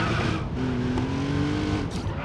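Porsche 911 Carrera 4 (964) with a naturally aspirated 3.6-litre flat-six, in the racing game Racing Master, drones steadily and fairly loud throughout, a continuous mid-pitched engine tone with slight tire noise and no speech.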